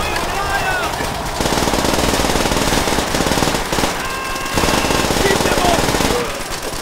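Sustained automatic gunfire rattles continuously in a Call of Duty: World at War campaign battle in a town, loud and close, with shouted voices mixed in.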